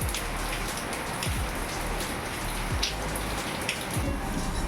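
Steady rain pours down and patters on surfaces, a dense continuous hiss with scattered heavier drips and occasional low thumps.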